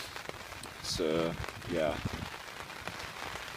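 Rain patters steadily on a tarp over a hammock at a winter camp, a close, continuous drumming that persists while someone speaks briefly.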